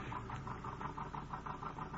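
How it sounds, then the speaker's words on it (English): A car engine runs at a steady idle in an enclosed space, a low continuous rumble with a faint regular pulsing throughout, with no voices over it. "The motor will stop when the exhaust is plugged."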